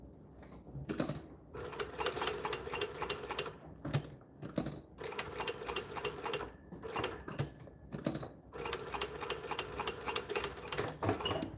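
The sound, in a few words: sewing machine stitching fabric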